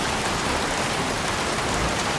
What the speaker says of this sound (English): Jeez, won't this rain ever let up?